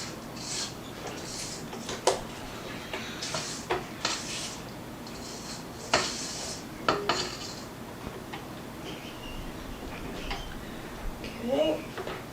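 Chocolate mousse cake batter being mixed in a bowl, with scattered clinks and knocks of a utensil against the bowl between quiet moments, and a voice talking at times.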